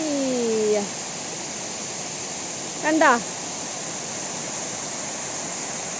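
Low-water flow of Alakapuri waterfall at Kanjirakolli, a steady broadband rush of falling water throughout, with a voice speaking briefly near the start and again around the middle.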